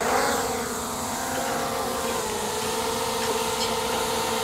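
A DJI Mavic Pro drone fitted with carbon fiber tri-blade propellers lifts off, giving a steady, close, buzzing whine with a tonal hum that holds level throughout, with no talking.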